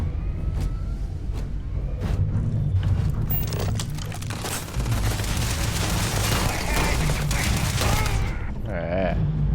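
Dense, continuous gunfire and explosive booms in a Starfield space-combat firefight at an enemy base, loud and sustained throughout with brief bursts of voice mixed in.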